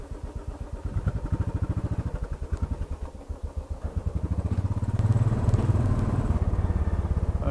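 A Royal Enfield motorcycle putters out of a garden, its single-cylinder engine thumping in a steady close rhythm that grows slightly louder and fuller partway through, with no talk over it.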